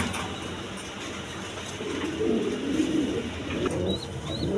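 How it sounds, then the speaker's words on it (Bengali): A pair of big white king pigeons coos in low, rolling bursts that grow fuller toward the end, close by over a steady background hiss, with no voices. "দর্শক এখানে 1 পেয়ার হোয়াইট কালারের আপনার কিং কবুতর আছে"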